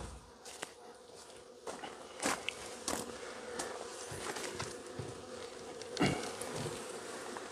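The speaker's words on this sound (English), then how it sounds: "So let's go get some bees." Honeybees buzz steadily around an open hive during a varroa mite check, a dense close drone with sharper passes of individual insects flying near, plus a few soft knocks and crackles.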